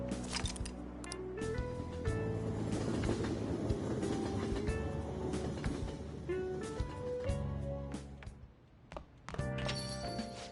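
A train arriving in the video game Persona 5 Royal, with a rumbling rail roll and clacking thunks under game music tones, steady before easing off toward the end.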